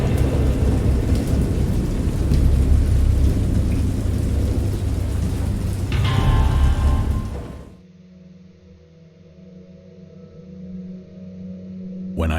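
Heavy rain and rolling thunder from a thunderstorm in the cosmic horror game Dagon, a loud dense roar for several seconds that cuts off abruptly into a quieter low ambient drone.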